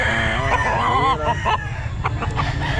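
Chickens cluck and a rooster crows at a busy poultry market, the birds loud and close over a constant low rumble of crowd noise.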